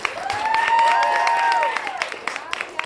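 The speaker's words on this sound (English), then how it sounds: "Give me a round of applause for Claudia Romo Adowin." An event audience applauds with scattered cheers and whoops as a guest speaker is introduced, the clapping swelling and then fading over a few seconds.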